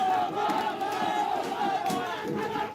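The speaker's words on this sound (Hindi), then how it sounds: "इस दौरान बीजेपी कार्यकर्ता बघेल सरकार और प्रशासन के खिलाफ नारेबाजी भी करते रहे।" A crowd of BJP workers shouting slogans outside a vote-counting centre, a dense and loud mass of voices chanting and yelling together with no pause.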